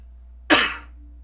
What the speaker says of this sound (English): real quick, hold on, I got a cough.